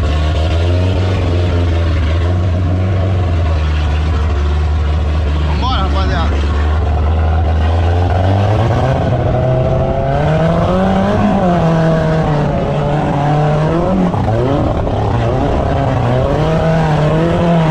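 An off-road buggy cage with a Volkswagen AP engine idles low, then revs hard and climbs a slick, slippery hill, its loud engine note surging and wavering repeatedly while people's voices are heard over it.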